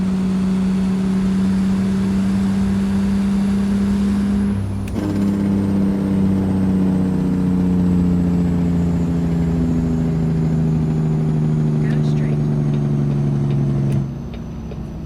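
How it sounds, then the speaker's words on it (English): A truck engine in American Truck Simulator revs hard and holds at high pitch during an autumn drive through Oklahoma, a steady loud drone with a brief dip near five seconds, then climbing again before easing off at the end. "Now I'm gonna wrap this thing out so we can listen to this engine."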